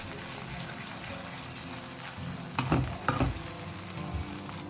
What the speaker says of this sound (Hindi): तो इसको ना मैंने 2 मिनट के लिए अच्छे से भून लिया है।